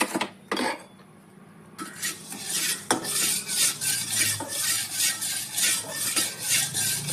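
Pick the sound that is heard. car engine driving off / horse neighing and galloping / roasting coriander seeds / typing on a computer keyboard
roasting coriander seeds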